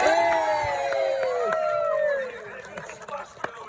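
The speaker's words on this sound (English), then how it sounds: "If he hits it, let's give him a big cheer." A crowd at a sea lion show in Scarborough cheers and whoops loudly as a sea lion leaps, the raised voices swelling together and then fading into scattered shouts.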